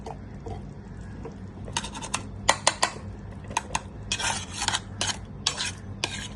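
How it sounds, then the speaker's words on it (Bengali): A spoon stirs rice into fish-head muri ghonto in a pan with ghee, giving a run of scraping, clattering strokes over a faint sizzle, louder in irregular bursts through the second half. "একটু নাড়িয়ে চাড়িয়ে দেব।"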